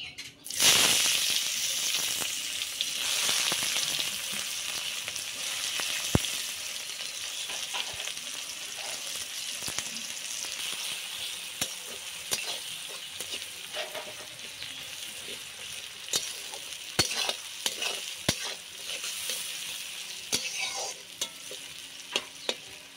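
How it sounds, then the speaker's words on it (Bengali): Chopped onions tossed into hot oil after whole spices have crackled, giving a loud, steady, close sizzle with occasional sharp clicks from stirring. No voices are heard. "আমি এবারে পেঁয়াজ কুচি দিয়ে দিচ্ছি"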